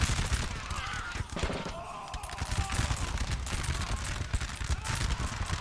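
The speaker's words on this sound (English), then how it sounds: "You can see the line infantry of Prussia now opening fire for the Kaiser." Massed musket volley fire from Prussian line infantry in Napoleon Total War, a dense continuous crackle of overlapping shots with distant booms, loud throughout under faint battle noise.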